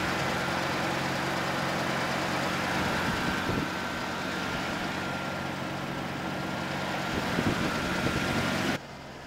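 A 1966 Lincoln Continental convertible engine idles steadily and smoothly at close range, a constant low rumble with no voices, cutting off abruptly near the end.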